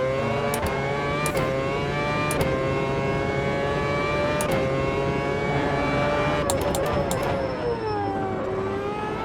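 Race car engine in the Automobilista 2 racing game, revving hard with a steady rising whine and sharp gear-shift breaks, loud and continuous throughout, alone.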